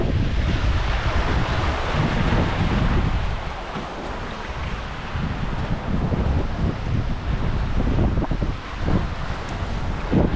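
Sea waves and strong wind aboard a sailboat at sea in a changed sea state: a continuous loud roar of wind buffeting the microphone over surging, splashing water, with no voices.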